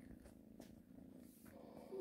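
A kitten purrs softly and steadily in a low continuous rumble, close and quiet, with faint background sounds over it.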